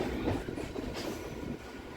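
A Kolkata local train runs from Barrackpore toward BBD Bagh on the circular rail line, a steady, fairly soft rumble of wheels and carriage noise heard from inside with no break.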